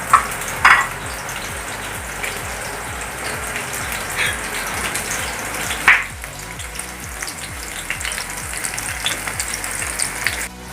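Okra frying in a pan with onion and green chillies, a continuous crackling sizzle close by, with a few louder scraping clatters as the pan is stirred, at the start and again midway.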